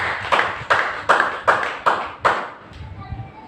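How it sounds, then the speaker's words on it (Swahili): A church congregation clapping hands for Jesus, six sharp, evenly spaced group claps in a steady rhythm, followed by quieter murmuring. "Pigia Yesu makofi."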